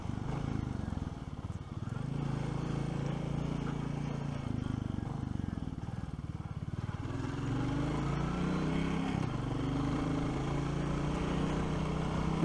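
A steady, throbbing 2023 Royal Enfield Classic 350 motorcycle engine runs continuously while riding, with wind rumble and slight changes in pitch as it cruises.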